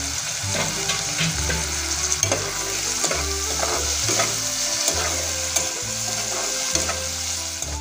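A spice masala with chopped tomatoes fries and is stirred in a pan: a loud continuous sizzle with rhythmic scraping strokes of a spoon, close and alone.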